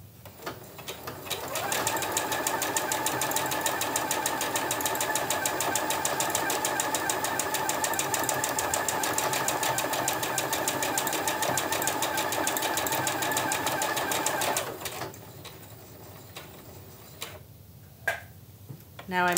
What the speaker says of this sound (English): now I'm just going to simply press firmly on the foot control and do nothing until the machine stops